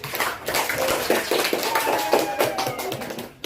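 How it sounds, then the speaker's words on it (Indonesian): A classroom breaks into applause for a student group, a dense, fairly loud burst of many hands clapping together for a few seconds before tapering off. "tepuk tangan untuk kelompok visual"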